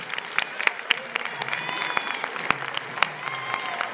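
Audience applause at a national literary prize ceremony at a book fair, a dense, steady clapping from a crowd in a hall, with a few sharper claps standing out and no voices over it.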